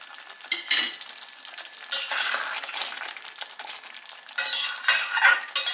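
Butter melting into palak paneer in a pan while it is stirred, giving a soft sizzle with scraping spoon strokes against the pan in uneven bursts, close and fairly quiet, with no talking.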